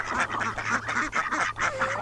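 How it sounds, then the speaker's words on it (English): Farm ducks and geese honk and quack in a loud, close, overlapping chorus, with the calls coming in rapid bursts and no one talking. "All the ducks, all the chickens."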